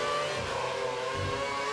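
A Formula 1 car engine in the racing game F1 2013, at Monza in the rain, drones steadily at high revs with slight pitch wobbles, loud and continuous with no voices.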